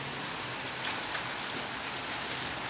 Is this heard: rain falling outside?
yes